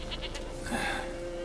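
A goat bleats once, briefly and faintly, in the video game The Witcher 3, a short wavering call over quiet ambient game sound.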